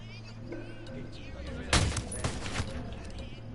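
A sudden burst of rapid gunfire breaks out in the tactical shooter Ghost Recon Wildlands, a loud cluster of shots followed by a few more trailing cracks over game ambience, with voices talking around it.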